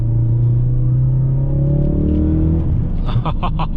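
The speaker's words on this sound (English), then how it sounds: "this thing you just loves to rev" A 2017 Ford Focus RS with 43k miles revs while driving, its engine a loud, steady rumble building continuously from inside the car, with a brief rougher burst near the end.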